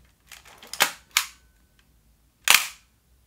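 A Nikon F3 camera's mechanical shutter release fires in sharp dry clicks, with a couple of quick close snaps followed by another single crisp click after a pause, heard up close in a quiet room.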